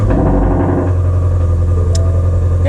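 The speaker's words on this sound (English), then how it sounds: "Of course, we'll get a cold startup." A 2020 Ford Shelby GT500 V8 rumbles loud and close just after a cold start, a deep steady idle with a pulsing low throb.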